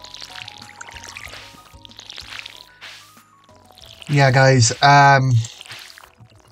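Crops are watered with a watering can in the farming game Stardew Valley: a few splashy pouring bursts, with a louder, tonal water effect near the end, while a player talks over the game sounds.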